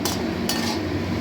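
Watermelon rind and boiled soybean are stirred in a pan, with a spoon or spatula clinking against the metal twice over a low, steady frying murmur.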